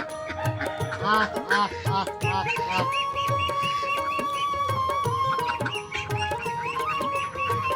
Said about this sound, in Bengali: অনেক হাঁস, আরো কিন্তু বাইরেও হাঁসগুলো আছে।